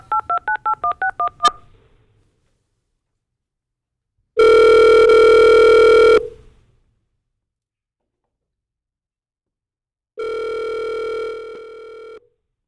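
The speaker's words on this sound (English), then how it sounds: "So if we could call Dr. Amy Hogan, and I'll tell the doctor when we get on the phone" A telephone call placed during a city commission meeting: a quick run of about seven touch-tone dialing beeps, then two long, loud ringback tones separated by silence, with no voices.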